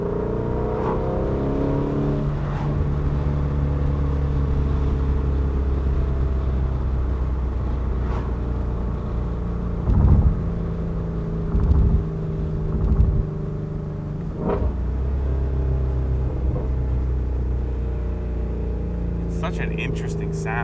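A Ford Mustang's engine rumbles steadily from inside the car while driving, a deep, loud drone that swells with a few revs and occasional bumps.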